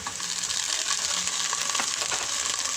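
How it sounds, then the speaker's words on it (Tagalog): A creamy pasta with Eden cheese, lemon, salt and pepper is stirred in a sizzling pan, giving a steady close frying hiss with soft scraping clicks. "So, haluin lang natin guys."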